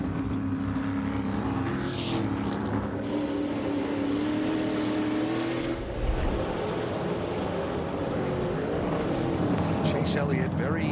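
A race car engine on light throttle exiting a corner at Sharon Speedway in an SRX Series race, a steady droning roar with a commentator talking over it.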